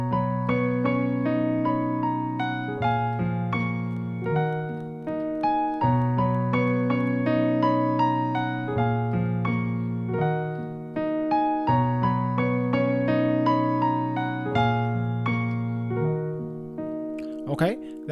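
Part 1 of a song played on piano: repeating low chord patterns with a melody line above, steady and unhurried, near and evenly loud throughout, no speech.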